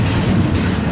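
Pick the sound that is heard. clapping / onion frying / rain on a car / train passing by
train passing by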